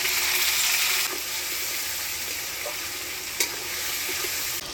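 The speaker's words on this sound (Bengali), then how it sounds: "বাটা মশলা এখানে দিয়ে দিই।" Ground ginger, cumin, coriander and chilli paste sizzles steadily in a pan of fried potatoes, a continuous close frying hiss with occasional soft knocks as it is stirred.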